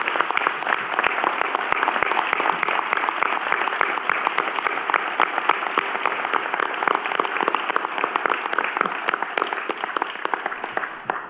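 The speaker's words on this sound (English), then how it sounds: "I ask that you join me in a round of applause as a final salute to the amazing families" Audience applause at a school district employee memorial resolution ceremony, a sustained, even round of clapping from a sizable crowd indoors lasting over ten seconds, fairly close and uninterrupted by speech.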